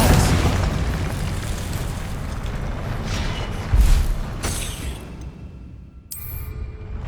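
Spell-casting effects in the PS5 game Hogwarts Legacy: a loud booming blast with rumbling bursts, then a brief pause and a sharp whoosh near the end.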